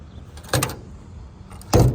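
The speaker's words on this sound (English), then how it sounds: "once you close the trunk" Two solid thumps from the trunk lid of a 1955 Ford Thunderbird being shut, the first a softer close and the second a heavier latching slam about a second later, close by with quiet background.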